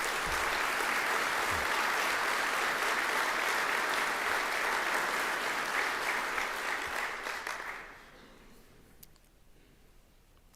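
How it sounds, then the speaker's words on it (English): A standing audience at an aviation association convention applauds its committee members with loud, dense, sustained clapping that carries on for about eight seconds before quickly tapering off to a few scattered claps. "would you please stand and allow us to show our appreciation with a round of applause?"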